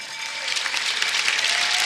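An audience applauds at a Finland–Switzerland event, a brief, dense burst of clapping that swells and holds loud and close without any voices.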